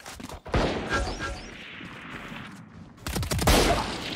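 Close, loud gunfire bursts in a Valorant match, with a sharp crack near the start and a dense volley of shots near the end, echoing over game noise without talk.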